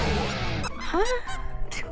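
A squeaky rubber chicken toy honks once in Minecraft, a short rising squeal standing out over a steady background din.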